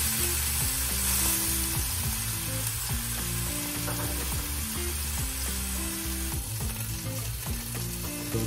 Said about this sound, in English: This is around the type of sound that I'm going for, not too loud, not too quiet, it has a nice sizzle.